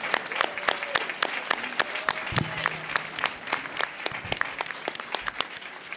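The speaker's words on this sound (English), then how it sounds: "Let's give our candidates a round of applause again." A debate audience claps steadily for the candidates at the close of a mayoral debate, a sustained, even round of applause with sharp individual claps, heard alone without talk.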